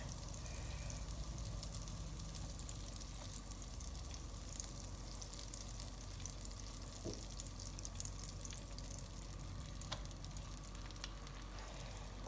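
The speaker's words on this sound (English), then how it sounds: "now that my butter is nice and melted, I'm going to add my bread" Egg-soaked bread frying in melted butter for French toast, giving a faint, even, continuous sizzle with occasional tiny crackles and no talking.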